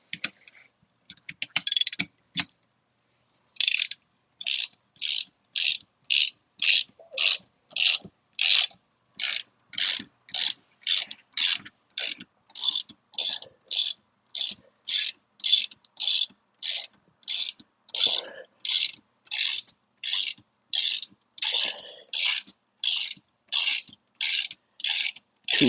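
A ratchet tightens a door hinge bolt on a Jeep Cherokee XJ: after a brief opening burst and a short pause, a long run of crisp, evenly spaced clicking strokes repeats close by, steady and alone.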